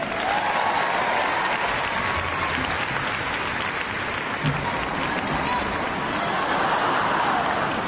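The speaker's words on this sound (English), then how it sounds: "A big cheer for Demon!" Sustained applause and cheering from a packed Crufts arena for an RAF police agility dog, a thick unbroken wash of clapping and crowd noise, with scattered voices and occasional shouts standing out.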